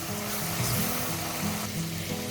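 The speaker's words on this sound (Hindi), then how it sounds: "हम इसको भून रहे हैं, एक 5 मिनट हमें इसको और भूनते रहना है।" Masala for mangochiyan being fried in a pan: a steady, close sizzle runs throughout, joined by faint stirring, with no voice over it.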